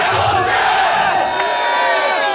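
A loud crowd at a battle event roars, cheering and shouting together in a dense, continuous wall of voices.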